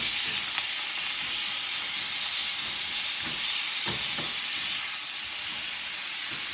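Char siu bao filling browns in a hot pan with a steady hiss and sizzle, a few soft stirring clicks and scrapes cutting through, close and continuous without any voices.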